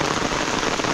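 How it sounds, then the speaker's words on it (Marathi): Heavy unseasonal rain pours down on a Konkan village, a dense, steady roar of drops drumming on surfaces, loud and close, with no voices. "पाऊस बघा जोरातच येतोय."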